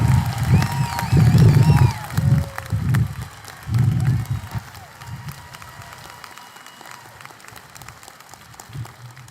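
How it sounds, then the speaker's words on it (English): A high school graduation crowd applauding and cheering, with loud shouts and whoops over clapping at first, then the cheering fades and thinner applause continues alone for several seconds. "Let's all give them a huge round of applause."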